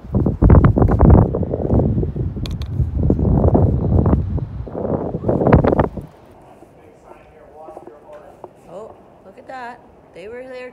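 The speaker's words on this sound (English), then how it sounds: "It's just really loud, windy right here." Heavy wind buffets the microphone in loud, roaring gusts for several seconds on a bridge, then drops away, leaving quieter background sounds.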